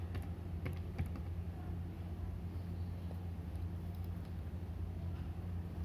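Faint, rapid keyboard clicks from NumPy code being typed on a computer keyboard, scattered over a steady low hum of room or engine noise, without speech.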